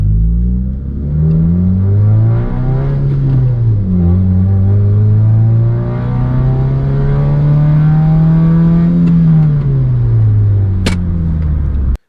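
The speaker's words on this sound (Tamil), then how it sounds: "ஸோ வண்டியோட இன்னர் நாய்ஸ் எப்படி இருக்குது அப்படின்றத பார்ப்போம்." Inside the cabin of a modified Honda Civic with a loud exhaust, the engine drones close and loud, its pitch rising and dipping through several revs before settling into a long steady hold.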